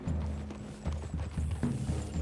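Horse hooves clip-clopping at a steady walking rhythm in Red Dead Redemption 2, close and clear through the whole stretch with no talk.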